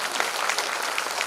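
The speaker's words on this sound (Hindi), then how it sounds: "दूसरी वाली ताली श्रोताओं के, जितने भी श्रोता जहां से आ रखे उन सब के लिए थी" Listeners at a Shiv Mahapuran katha in a village assembly clap in a brief, even burst of applause from many people, loud and continuous for just over a second.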